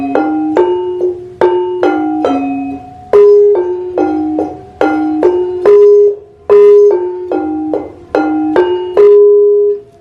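Metallic struck bars of a Sundanese gamelan demung ring out a repeating melodic pattern, evenly paced notes with sharp attacks and resonant decays, played clearly and loudly without voices.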